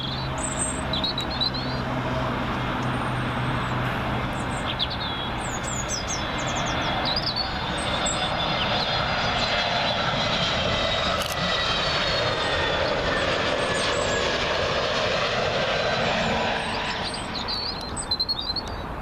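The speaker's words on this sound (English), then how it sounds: "Next one up, we say top of the morning to Aer Lingus A320neo in from Dublin" An Aer Lingus Airbus A320neo arriving from Dublin lands on Heathrow runway 27L, a steady broad jet roar that holds for the whole stretch, with birds chirping now and then over it.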